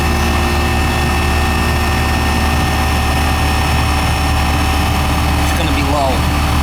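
An older R22 home air conditioning unit, low on refrigerant and not cooling, runs as a loud, steady droning hum with a constant mechanical whine; a faint voice briefly comes in near the end.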